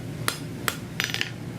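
A hammer strikes hot iron scroll stock on an anvil at a forge: sharp ringing blows, two spaced hits then a quick cluster of four, close and clear with no talk.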